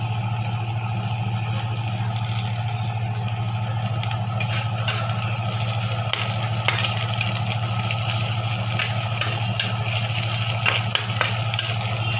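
Onions frying in oil in a pan, a steady low sizzle with occasional crackles under a constant low hum.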